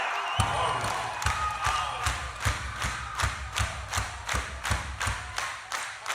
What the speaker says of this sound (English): Arizona, let me get you guys clapping with me